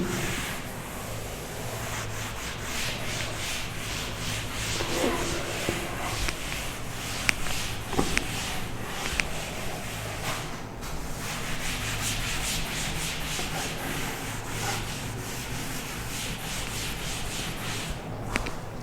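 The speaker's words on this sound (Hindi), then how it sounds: "मैं रब कर रहा हूं क्वेश्चन नंबर 2 के लिए" A classroom board is rubbed clean for several seconds, making a steady, close, scratchy swishing with a few faint knocks along the way.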